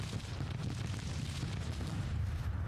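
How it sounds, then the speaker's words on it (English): Distant artillery fire in the Civil War strategy game Grand Tactician, a continuous low rumble of overlapping booms with battlefield noise, steady and dense throughout, no voices. "They also have artillery firing on us also"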